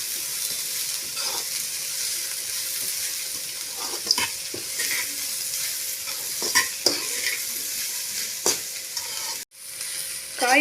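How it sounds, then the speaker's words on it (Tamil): Mixed vegetables sizzle steadily in hot oil in a pan while being stir-fried for vegetable fried rice, a constant close hiss broken by occasional scraping and stirring knocks. "இன்னும் ஒரு 2 நிமிஷம் வதக்கி விட்டுக்கலாம்."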